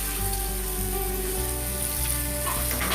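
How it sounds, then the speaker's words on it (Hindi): Basa fish pieces frying in oil in a pan for chilli fish, a steady, dense sizzle that stays close and continuous, with no voices over it. "बस इसको थोड़ा सा फ्राई करना"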